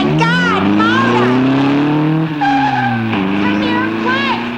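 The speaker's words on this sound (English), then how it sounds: "he's driving off in that yellow sports car" A yellow sports car pulls away, its engine rising in pitch with a squealing, revving whine as it accelerates, loud and close throughout.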